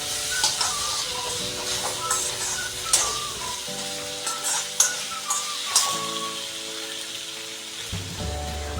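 Potato pieces are stirred and fried in oil for an aloo fry, giving a steady sizzle broken by scraping strokes over a sustained tonal background.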